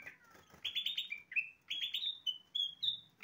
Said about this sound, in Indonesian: itu kutilang emas ya yang bunyi tadi